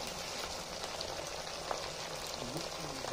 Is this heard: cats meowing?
no